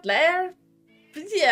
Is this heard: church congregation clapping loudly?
no